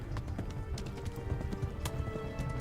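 A horse's hooves clop steadily at a gallop in the medieval game Kingdom Come: Deliverance, a faint, even rhythm with no voices.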